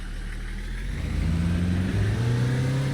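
Loud and close, the noisy tour bus engine in Tourist Bus Simulator revs up, its droning rumble climbing steadily in pitch over a few seconds.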